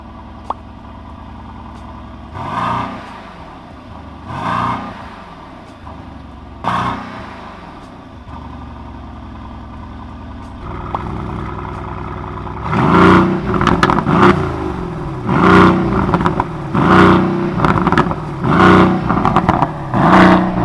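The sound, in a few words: SUV engine exhaust revving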